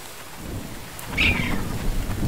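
Steady rain with a deep rumble of thunder swelling midway, a brief sharp crack near the start, from the survival video game The Infected, heard alone without talk.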